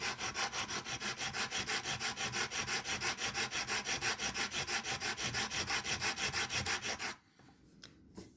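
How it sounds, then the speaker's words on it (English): Sandpaper rubs back and forth on the wooden neck of a Taylor acoustic guitar in fast, even rhythmic strokes, loud and close, stopping abruptly near the end. "I'm going to sand, until I take it back to the tape there"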